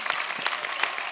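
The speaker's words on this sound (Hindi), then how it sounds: "जोरदार तालियां इनके लिए" Studio audience on a TV dance show applauds, a dense steady clatter of many hands clapping filling the whole short stretch, close and loud.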